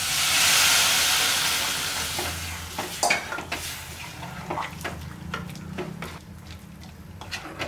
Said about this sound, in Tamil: நல்லா கொதிச்சிட்டு இருக்கட்டும்